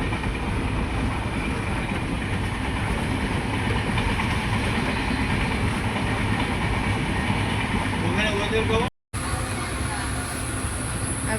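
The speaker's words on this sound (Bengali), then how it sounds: "চলে এসছে আমাদের ট্রেন ফাইনালি" A train rumbles loudly and steadily at a station in Assam on the way to Malbazar, a dense continuous roar with a faint rhythmic clatter, cut by a brief gap near the end; voices may be mixed in beneath.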